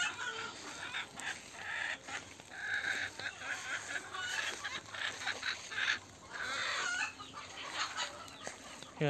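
Free-range village chickens cluck and call on a semi-enclosed poultry farm, with faint, scattered bursts of sound over a quiet, busy background.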